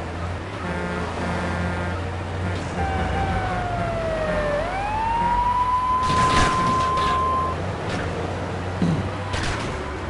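A police siren in the video game Grand Theft Auto 3 wails in a single rising and falling sweep and then holds a steady tone, heard at moderate distance over a constant background rush and brief bursts of noise.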